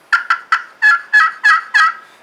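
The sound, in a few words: turkey call imitating a hen while hunting gobblers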